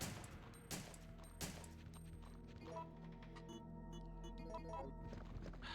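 Gunfire in Resident Evil 3, a few sharp shots cracking over a steady droning game soundtrack, moderately loud and spaced apart.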